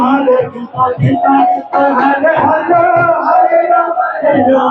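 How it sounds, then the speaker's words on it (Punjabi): Devotees chant Hare Krishna slogans in unison at a Lord Jagannath Rath Yatra procession in Khanna: a dense, loud crowd of voices rising and falling continuously throughout. "ਯਾਤਰਾ ਦੇ ਅੱਗੇ ਚੱਲਦੇ ਹੋਏ ਭਗਤ ਹਰੇ ਕ੍ਰਿਸ਼ਨ ਹਰੇ ਕ੍ਰਿਸ਼ਨ ਦੇ ਜੈਕਾਰੇ ਲਗਾਉਂਦੇ ਹੋਏ"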